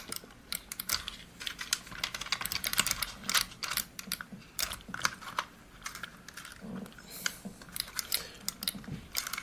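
Arcade joystick buttons click into place in a homemade controller, a dense run of quick, sharp plastic clicks and taps, close and fairly quiet, with no voices.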